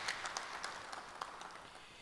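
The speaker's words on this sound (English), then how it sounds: "I think it's deserved applause" Applause from a conference audience at a tech event, scattered claps fairly faint and thin throughout, with no talking over it.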